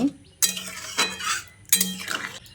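A spoon stirs a vegetable curry with drumsticks and potato in a pot after salt and sugar go in, three distinct scraping strokes with metallic clinks, close and clear with no talking.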